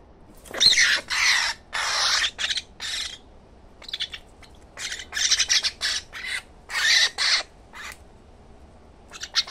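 A hungry myna bird squawks and chirps for food close by, in a run of harsh, scratchy bursts separated by short pauses.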